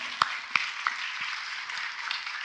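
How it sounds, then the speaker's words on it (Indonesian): A few scattered claps sound out over a low, hissy room tone at a church teaching seminar, a sparse, faint smattering rather than full applause. "Beri tepuk tangan untuk kebenaran ini."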